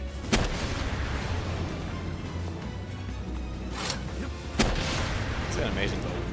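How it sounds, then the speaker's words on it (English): A small rocket launcher in Palworld fires in two sharp, loud blasts a few seconds apart over a steady game-ambience rumble, with a voice talking faintly under it. "canceling the animation for my little rocket launcher"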